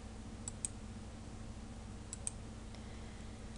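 Four faint, sharp mouse clicks in two quick pairs, spaced about two seconds apart, while working in Flash animation software on a computer with low steady background hum and no speech.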